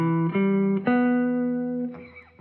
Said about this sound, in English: And its arpeggio sounds like this.